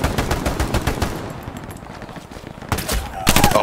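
Rapid bursts of machine-gun and rifle fire from the World War II shooter Hell Let Loose crackle loud and close, in clustered volleys with a brief lull in the middle.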